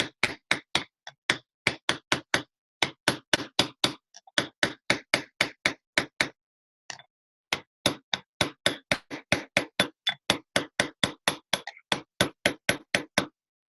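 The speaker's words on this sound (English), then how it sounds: "I hate this giant hammer." Rapid, regular hammer blows striking metal on a sandbag during chasing and repoussé work with a large hammer, dozens of sharp impacts in a steady rhythm with one brief pause midway, loud and close.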